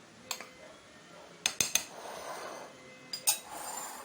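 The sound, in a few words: mixing flour, baking soda and other ingredients together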